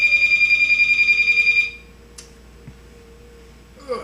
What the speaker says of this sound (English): Pausing for a second while my phone rings.